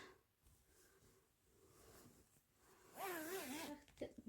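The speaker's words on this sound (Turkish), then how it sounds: "Hemen şöyle bir açalım fermuarlarından açıp yıkayabiliyorsunuz." The zipper on a baby sleeping set cover is pulled open in a quiet room: after soft handling noises, one quick, rasping zip run lasts under a second, followed by faint fabric rustles.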